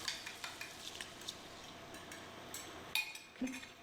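Eggs scramble in a pan of melted margarine and a little oil, a soft steady sizzle under faint scraping and stirring strokes, a couple of light utensil clinks near the end.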